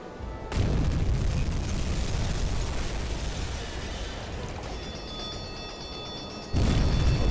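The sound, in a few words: torpedo hits exploding on a ship in the video game UBOAT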